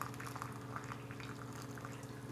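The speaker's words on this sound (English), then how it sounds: "So in goes my hot water." Freshly boiled hot water poured onto oats for farmhouse oat bread: a steady, close gurgling stream with a soft bubbling texture, continuous and unaccompanied by talk.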